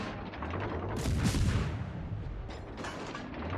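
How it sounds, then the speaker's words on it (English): Video game gunfire aimed at an enemy: a dense burst of booming shots swells for about half a second, then a shorter volley follows, over a low background rumble. "I'm going to go ahead and get a couple shots in on him here."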